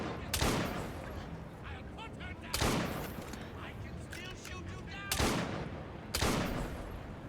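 Gunfire in Assassin's Creed Syndicate: four loud, sharp shots spread irregularly across the stretch, each with a trailing echo, over a busy ambient game soundscape.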